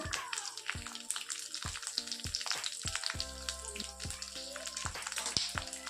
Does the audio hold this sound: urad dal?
yes